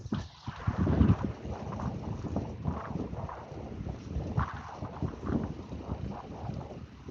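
Strong wind gusting on a fishing outing outdoors, a loud rushing roar buffeting the microphone and surging in waves throughout, with no speech.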